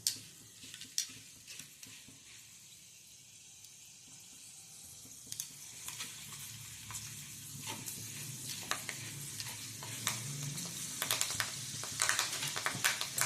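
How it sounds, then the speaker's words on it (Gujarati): Jowar mukhwas fried in hot oil in a small jar set in a pan gives a soft, steady sizzle that builds up and becomes busier toward the end, with scattered crackles and pops. "આપણો મુખવાસ તળવા લાગ્યો છે"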